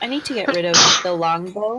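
A single sharp sneeze bursts out in the middle of a tabletop role-playing game session, brief and close, with people talking just before and after it.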